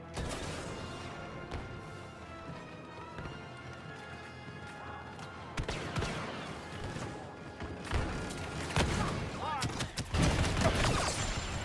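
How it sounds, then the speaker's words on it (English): A grenade blast amid battle in Star Wars Battlefront 2 Galactic Assault, set among continuous gunfire, impacts and crashes, with someone talking over the game noise. "Grenade deployed!"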